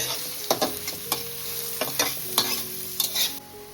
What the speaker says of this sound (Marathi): इकडे तुम्ही बघू शकता आपला कांदा मिरची आणि लसूण मस्त तांबूस रंगावर परतून झालेली आहे